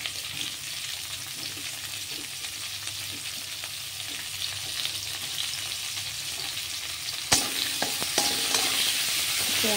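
Chopped onion hits hot oil already tempered with cumin and chillies, a continuous close sizzle that grows brighter and louder near the end as a sharp clatter of stirring breaks in; no voices.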